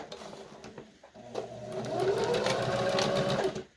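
A home sewing machine runs a 1/4 inch seam on a fabric hospital mask, starting with short bursts and then a steady, close, whirring hum before it stops.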